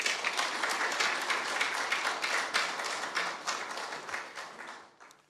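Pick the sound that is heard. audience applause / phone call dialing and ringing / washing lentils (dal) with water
audience applause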